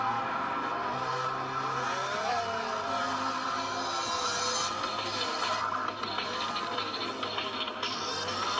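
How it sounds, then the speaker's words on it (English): Porsche racing car in a PSP driving game roars continuously without a break, its revs rising and falling with faint whining sweeps and tire noise, played alone at steady loudness. "And of course I could drive a Porsche too."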